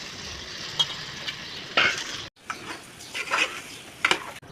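Eggs frying and being stirred with garlic chili powder in a pan, a continuous close sizzle broken by scraping spatula strokes, a brief pause midway, then more sizzling and stirring.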